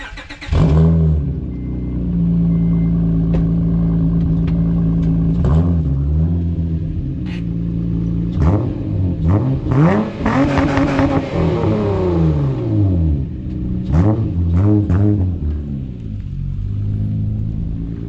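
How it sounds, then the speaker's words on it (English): A 2006 Acura TL with a six-speed manual and cut-out mufflers starts up close by, settles into a loud, steady idle, then revs repeatedly in several sharp bursts, the exhaust rising and falling between blips. "Let's get a startup before we install some parts"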